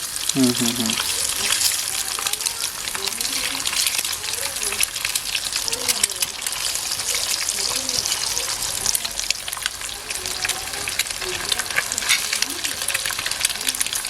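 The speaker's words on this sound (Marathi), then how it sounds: "जी अंडी आपण कापून घेतले ती फ्राय करून घेऊया" Sliced boiled eggs fry in a pan on a wood-fired stove for egg tawa fry masala, giving a steady broad sizzle with occasional stirring scrapes while people talk quietly over it throughout.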